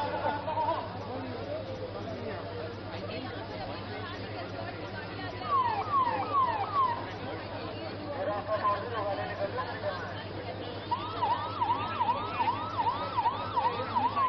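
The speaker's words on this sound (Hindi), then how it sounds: "सामने एम्बुलेंस है" An ambulance siren wails in repeated rising-falling sweeps amid a busy crowd, with several people talking loudly nearby and a steady hum underneath.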